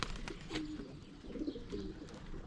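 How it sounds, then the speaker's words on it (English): A small pigeon cooing softly in a loft among other young birds, with a few low repeated coos over faint background rustle and chirps. "A cracking wee pigeon that."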